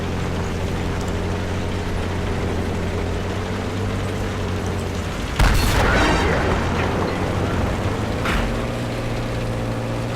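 A Rheinmetall tank in a video game fires a high-explosive shell: one sharp, loud boom cuts through a steady engine drone, and a second, fainter report follows a few seconds later.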